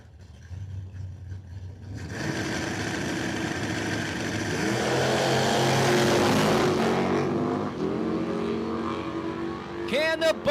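At Cordova Dragway a Chevrolet Monte Carlo car drag races a Suzuki motorcycle; after a quiet idle the engines burst into a loud, swelling roar that peaks mid-run, then fades as high revving notes sweep near the end.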